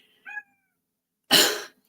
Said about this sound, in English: Kitty's over there crying.